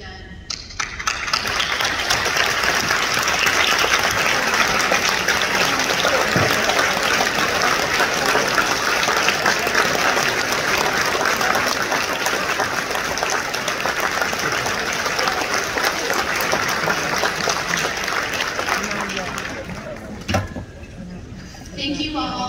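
A conference audience at a CERT gathering in San Francisco bursts into sustained, dense applause that fills the room loudly for about twenty seconds before dying away, with a voice returning at the end.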